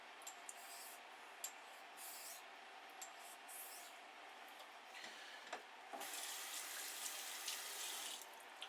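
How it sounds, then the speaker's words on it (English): Water running from a tap as an item is rinsed in a sink, a steady quiet hiss that swells louder and brighter toward the end, with small clinks and no voices. "Rinse that off."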